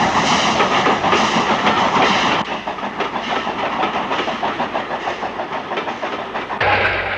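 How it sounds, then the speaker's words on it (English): Jubilee locomotive 45610 Gold Coast pulls out of Cheltenham's Midland station at Lansdown Junction in 1959, a loud, close, steady rolling rumble with rhythmic wheel clatter and no talking. "Jubilee 45610 Gold Coast leaves the Midland Station for Gloucester and Bristol."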